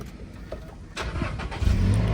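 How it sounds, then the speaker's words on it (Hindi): A 2023 Toyota Innova Crysta engine cranks and catches, then settles into a steady idle that grows slightly louder, heard up close with no talking. "देखो अपनी गाड़ी स्टार्ट हो गई है।"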